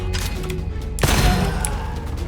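Gunshots in the first-person shooter Gunfire Reborn sound as a few sharp cracks, with one loud close shot near the middle standing out over the game's background noise.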